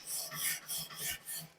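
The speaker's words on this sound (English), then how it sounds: "here's a wire brush, scrub a little bit more on those grates" A wire brush scrubs the grates of a Kamado Bono kamado grill in close, rhythmic raspy strokes, about five back-and-forth scrapes in quick succession, with no talking over them.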